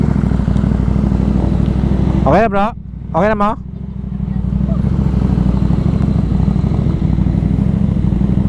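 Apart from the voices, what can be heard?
many motorcycles riding on a highway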